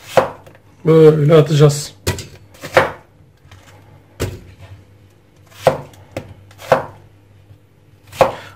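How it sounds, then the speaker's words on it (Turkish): Onions being quartered with a knife on a board for a Turkish lamb shank stew produce several sharp, close chops spaced irregularly, with a brief spoken remark between the first strikes. "Soğanları 4'e böleceğiz."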